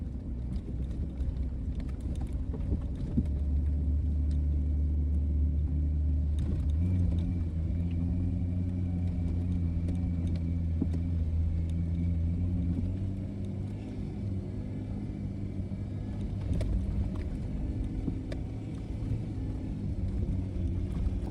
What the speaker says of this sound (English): The wind's blowing pretty darn hard.